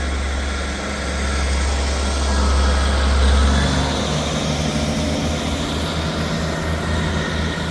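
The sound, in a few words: ScotRail train departing Inverkeithing station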